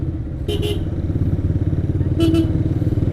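Kawasaki Ninja motorcycle engine running close by with a steady throbbing drone that rises slightly, while brief voices cut in twice.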